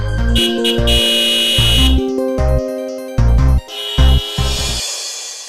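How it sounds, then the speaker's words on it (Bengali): A car horn in a street scene from a Bangla comedy drama blares in a string of loud, tonal blasts of uneven length, some long and some short, with brief pauses between them. "এত জোরে জোরে হর্ন বাজাচ্ছি"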